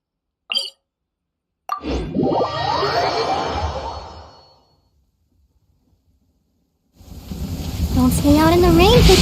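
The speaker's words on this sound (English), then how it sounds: "Don't stay out in the rain for too long." Rain falling in the open world of Genshin Impact, a dense wash of rainfall with a thunder-like rumble, dropping to near silence midway before the downpour returns louder, with short game sound effects over it.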